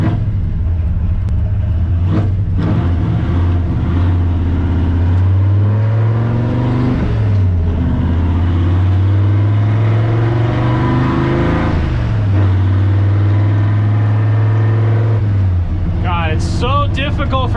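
A high-compression Ford F100 truck engine under wide open throttle on the street, droning low and loud, with its pitch climbing and falling through gear changes over about seventeen seconds.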